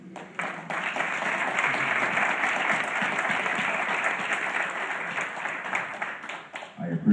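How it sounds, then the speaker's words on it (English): Applause from an audience at an all-district honor band concert, a dense steady wash of clapping that runs loud and continuous for several seconds before tapering slightly near the end. "give your parents a round of applause, for the hard work that they do"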